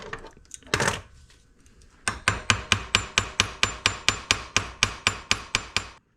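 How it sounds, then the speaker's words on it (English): Hammer taps rivets on a Vespa Rally 200 engine gear held against a vise, about fifteen sharp, evenly spaced metallic strikes in a steady rhythm, loud and close, after a brief scrape. "You start tapping on each rivet."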